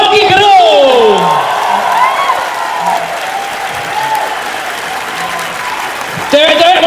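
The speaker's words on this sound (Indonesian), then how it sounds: "kita kasih tepuk tangan yang paling meriah untuk Bung Rocky Gerung" Audience applause and cheering for a speaker at a public talk on humanity and city civilisation, a loud, sustained crowd roar that runs under a host's voice at the start and again near the end.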